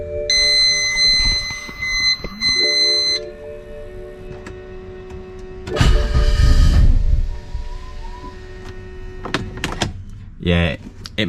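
A BMW E90 with an N54 engine, single turbo and newly installed high-pressure fuel pump cranks without firing, suspected low fuel pressure: electronic chimes and tones, then a loud churning starter burst of about a second, ending in more beeps.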